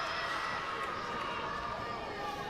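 A rugby crowd at Scotstoun roars steadily and densely for the Glasgow Warriors, a continuous wash of voices urging the home side on in a Celtic Challenge match against Gwalia Lightning.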